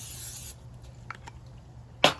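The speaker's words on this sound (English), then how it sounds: "we're going to spray the bottom of the air fryer basket with a cooking spray" Cooking spray onto an air fryer basket: a short aerosol hiss opens the clip and cuts off, a couple of faint clicks follow, and a sharp burst of spray comes near the end.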